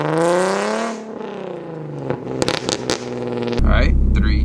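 A Nissan 370Z revs on two-step launch control over sandy ground: a loud, falling engine drone gives way to sharp, irregular popping bangs, then a sustained, harsh full-throttle roar.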